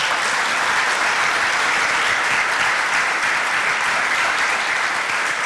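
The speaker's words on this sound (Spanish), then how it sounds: "Un aplauso para el Señor." A church congregation applauds during a sermon, a dense, even wash of many hands clapping at steady loudness throughout the short stretch.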